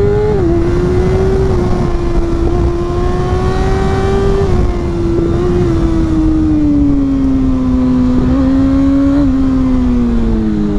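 Kawasaki ZX-6R 636 fitted with an aftermarket exhaust line and a remapped ECU, loud and close as the engine pulls at high revs with a sustained whine that dips slightly through a shift.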